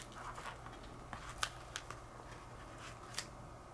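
Quiet rustling, crinkling and a few sharp clicks of plastic packaging as die-cast Boeing 787-9 model airplanes are unpacked, faint and close with irregular small snaps.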